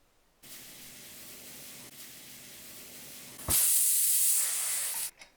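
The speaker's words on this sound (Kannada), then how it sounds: "ಕುಕ್ಕರ್ ಮುಚ್ಚಳ ಮುಚ್ಚಿ 1 ಕೂಗು ಬರೋ ಅಷ್ಟು ನೀವು ಕೂಗಿಸ್ಕೊಳ್ಳಿ" A pressure cooker holding pulses for upsaaru vents steam in a steady loud hiss, first a moderate rush and then a sharp, much louder blast that holds for over a second before cutting off abruptly.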